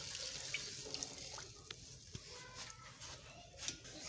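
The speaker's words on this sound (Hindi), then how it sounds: "अब हम इसमें 1 गिलास पानी डालेंगे" Water pours and splashes quietly into a clay cooking pot of chicken and turnip curry, a soft, continuous trickle with a few small clinks, no talking.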